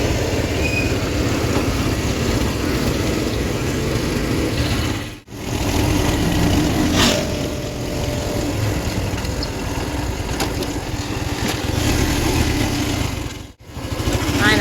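A motorcycle engine idles steadily close by in a backyard gathering, a constant droning rumble that briefly dips twice.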